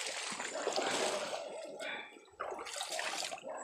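A large river in rugged country near New Asturias rushes with steady, loud broadband water noise close by, briefly dipping before surging again, with a voice speaking over it.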